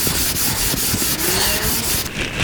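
Fresh 220-grit sandpaper rubbed over a guitar fretboard in quick, steady back-and-forth passes, a loud close scratchy hiss that runs continuously with slight rhythmic pulses and no speech.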